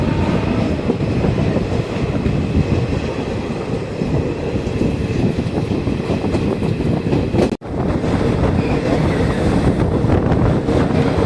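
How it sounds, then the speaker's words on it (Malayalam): A Guruvayur passenger train rumbles steadily and loudly up close, a continuous roar of wheels and rail noise with faint clattering and a brief dip near the end, with no voices. "അത് ഗുരുവായൂർ പാസഞ്ചറാണ് കിടക്കുന്നത്"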